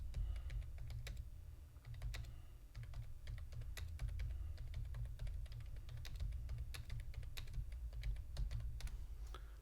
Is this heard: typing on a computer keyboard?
yes